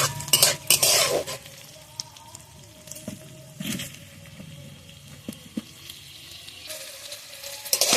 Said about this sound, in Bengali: এবার আমি এখানে কাজু আর কিশমিশ ভেজে নেবো